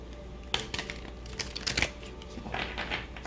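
Tarot cards riffled and shuffled in a few quick bursts of papery clicking, close by, with short pauses between.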